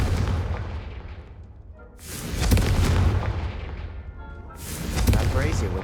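Confringo spell blasts in the video game Hogwarts Legacy, two loud booming explosions with long rumbling decays, separated by a short lull, the first already fading at the start.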